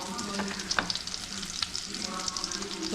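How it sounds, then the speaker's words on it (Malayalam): Garlic fries in a hot pan, a close, steady crackling sizzle with bright spattering pops throughout, no voices. "ചൂടാകുമ്പോൾ വെളുത്തുള്ളി ഇട്ടിട്ടുണ്ട്."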